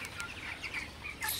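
Broiler chickens clucking softly in a shed, a short run of several quiet clucks and chirps at moderate distance, with no talking.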